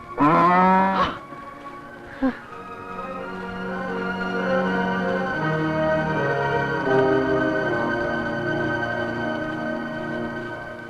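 A buffalo moos as a comedy-scene sound effect: a short, loud opening call, a brief grunt, then a long, drawn-out low moo that holds steady to the end.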